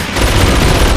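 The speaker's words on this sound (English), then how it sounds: "take control of the machine gun and clean house" Mounted machine gun in a combat video game fires a loud, continuous rapid burst that fills the whole brief moment up close.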